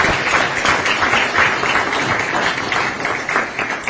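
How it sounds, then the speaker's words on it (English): A business roundtable audience gives steady, sustained applause for Kenyan President William Ruto, a full room of hands clapping continuously for several seconds. "a round of applause to thank President Ruto"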